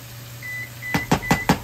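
An oven signalling it has preheated, giving four short, evenly spaced electronic beeps close by over a faint appliance hum.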